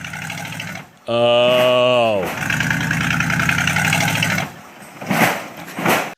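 A struggling bus engine sound effect groans and whines with a descending pitch, then settles into a rough, labored chugging before sputtering out, with a brief spoken exclamation at the start.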